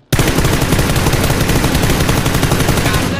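Dense, rapid automatic gunfire in the battle royale game PUBG, a loud continuous burst running throughout with no pauses and no talk.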